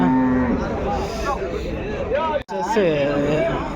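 Dairy cows, including Jersey crossbreeds, low at the Palamaner cattle market with several drawn-out moos. The calls are heard over a busy background of crowd chatter and nearby speech.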